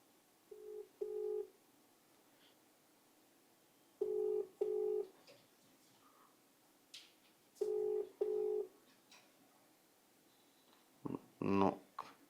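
A phone number being dialed on a telephone: three pairs of short keypad beeps at even intervals in a quiet room, followed by a brief harsher burst of tones near the end.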